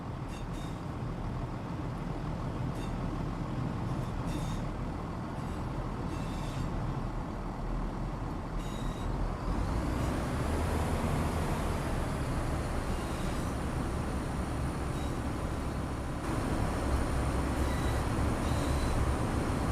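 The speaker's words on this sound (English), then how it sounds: "the sound that the trains make when they release the brakes." Train air brakes releasing in Train Sim World, a steady rushing hiss of air that swells partway through and holds over a low rumbling engine bed, with no talk.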